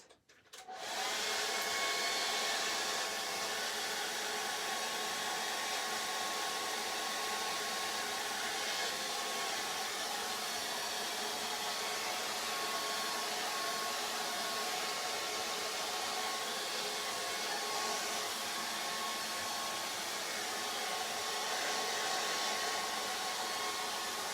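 Hair dryer blowing across a watercolour portrait painting, a loud steady whooshing hum that starts abruptly and runs unbroken for over twenty seconds, close and alone.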